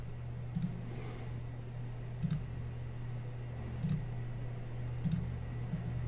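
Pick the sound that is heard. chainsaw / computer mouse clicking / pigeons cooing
computer mouse clicking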